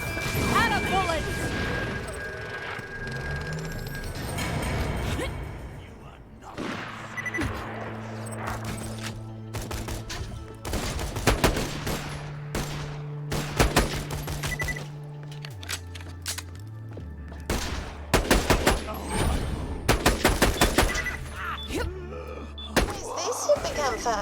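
Bursts of video game gunfire crackle through a shootout in Borderlands: The Pre-Sequel, with sharp repeated volleys, crashes and impacts clustered in the second half, layered over a sustained low musical drone.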